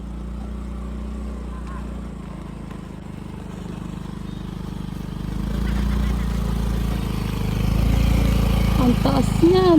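A motorcycle engine labours up a rough, potholed uphill road on Siargao island, a low rumble that grows louder and heavier partway through, with faint voices in the background.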